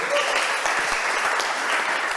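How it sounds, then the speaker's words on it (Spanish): A congregation at a church conference in Peru breaks into sustained applause, a thick, even wash of many hands clapping that holds steady without pause. "Aplausos para Jesús"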